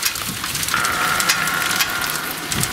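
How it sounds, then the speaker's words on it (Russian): Dense, steady patter of small ice pellets hitting surfaces, a continuous hissing drum with a faint tonal whine in the background. "У нас пошел град, представляете?"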